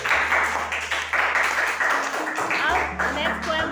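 Schoolchildren clapping their hands in steady repeated claps during a nursery rhyme session, with a low steady hum behind and a voice over the top.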